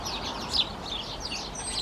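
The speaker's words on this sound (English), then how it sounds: "House sparrows here making that tweet sound, that chip chip sound." House sparrows chirping with short chip chip calls, a few faint high notes scattered over steady outdoor background noise.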